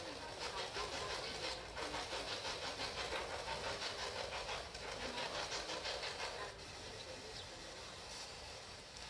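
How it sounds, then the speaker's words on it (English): A ghost-hunting spirit box radio sweeps rapidly through stations, making a continuous pulsing hiss of static chopped into fast rhythmic bursts, steady and fairly loud throughout. "It's a spirit box."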